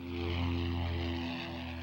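Propeller plane flying low overhead while testing mosquito spraying with water in Ada County, a steady droning engine hum with strong harmonic tones that swells and fades slightly.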